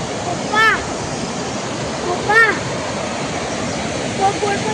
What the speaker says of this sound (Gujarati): ખૂબ સરસ ઝરણું જાય છે